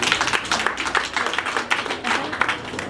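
Church congregation clapping together in steady, dense applause, a continuous patter of many hands that carries through the whole moment with no voices breaking through.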